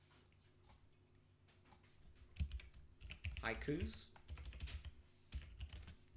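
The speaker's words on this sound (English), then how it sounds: "which I'm going to start typing out here." Quick, close clicking of fingers typing on a computer keyboard while writing code, in irregular bursts, with someone speaking softly over the keystrokes.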